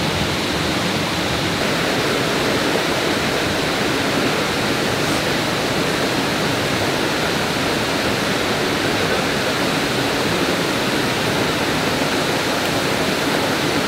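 A waterfall pouring steadily outdoors, a loud, even rush of falling water that holds for the whole stretch without letting up, with no talking over it.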